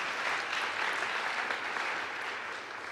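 Steady audience applause at a university honors day awards ceremony, a sustained even wash of many hands clapping that holds for nearly three seconds and eases slightly at the end.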